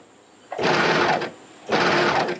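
Two loud, steady bursts of an overlocker stitching stretch rashie fabric, each whirring run lasting under a second, separated by a brief pause, close to the machine with no talking.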